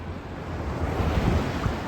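Sea waves wash onto a clear-water Cornish beach near Sennen, a steady close surf with wind buffeting the microphone and no voices.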